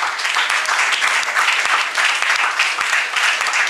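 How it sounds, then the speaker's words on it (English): Loud, close audience applause at a health ministry event, brisk steady clapping that fills the whole moment with individual hand claps standing out. "Let's give her a clap."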